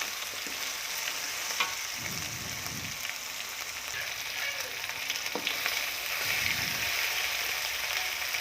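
Sugar goes into a pan of sizzling Javanese sambal pete, a loud, steady frying crackle with bursts of stirring scrapes, no voices over it.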